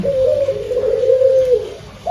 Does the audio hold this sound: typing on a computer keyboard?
no